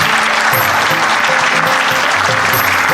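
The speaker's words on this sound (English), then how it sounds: "Please keep clapping, my dear parents." A crowd of parents claps steadily and loudly at a school annual day prize distribution, dense applause filling the room without pause.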